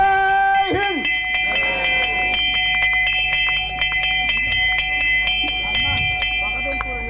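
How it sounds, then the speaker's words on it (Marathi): A school bell rings loudly and continuously at a school's annual gathering in Mahabaleshwar, with rapid repeated strikes and a sustained metallic ring throughout, and a voice briefly heard near the start. "घंटानाद झालेली आहे, शाळा नक्की भरलेली आहे"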